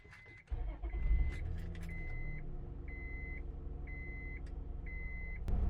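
A car engine cranks and catches after a jump start from a LokiThor JA300 1500 amp 12V portable jump starter, then settles into a steady idle while a dashboard chime beeps at regular intervals.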